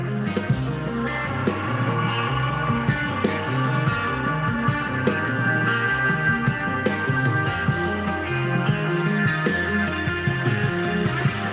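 Dense, distorted electric guitar riffs churn over driving low-end rhythm, loud and continuous throughout.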